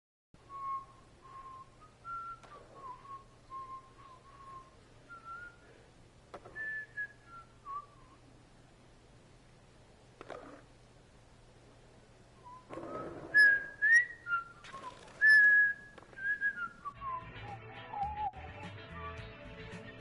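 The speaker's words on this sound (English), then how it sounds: "Kind of whistled the Little Rascals thing" A person whistles the Little Rascals theme as a wavering, fairly faint melody of short notes, with a brief louder burst of game sound near the end; a steady low hum runs underneath throughout.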